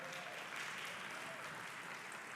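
A church congregation claps together during a service, a dense, steady wash of applause from many hands filling the room without pause.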